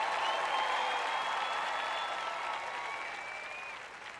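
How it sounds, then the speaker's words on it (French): An audience at a French-language sermon applauds steadily, a dense wash of clapping with a few whistle-like cheers that holds for several seconds and slowly eases off. "Maintenant, vous pouvez applaudir et faire du bruit."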